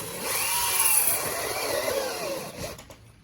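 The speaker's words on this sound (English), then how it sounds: "then I'll show you how to drill" A power drill bores holes through ground cover while planting, its motor whining steadily and loudly up close for a few seconds before winding down.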